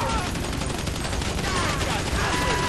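Bursts of gunfire crackle in a GTA V shootout, rapid dense volleys layered into a continuous noisy barrage at moderate level with no speech.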